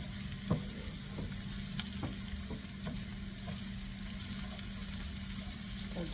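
Rosemary frying in oil while being stirred, a faint steady sizzle with light periodic scrapes and one brief knock near the start, close and without talk.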